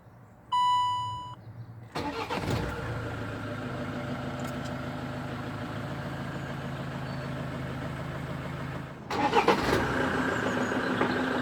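A 2007 Land Rover Defender 110 with a 6-speed manual gearbox starts up after a chime of beeps, cranking briefly before settling into a steady close idle that swells again near the end.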